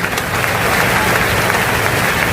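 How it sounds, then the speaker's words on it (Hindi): A large crowd at a live Hindu religious gathering, a divya darbar, bursts into loud applause, a dense, sustained roar of clapping that stays close and even for its whole length, with no voices. "जोरदार ताली बजा"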